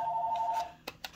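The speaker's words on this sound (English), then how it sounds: "phone is ringing" A phone rings indoors with a steady electronic tone that cuts off, followed by two short clicks or beeps, alone with no talk.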